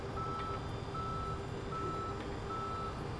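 A tow truck reversing in the Police Simulator: Patrol Officers video game, its backup alarm beeping in a steady evenly spaced rhythm over a constant engine drone, fairly close, with no speech.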